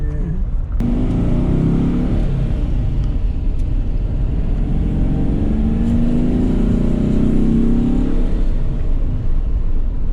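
A Porsche sports car engine rumbles as the car passes close by, its tone rising and falling before fading, with no voices.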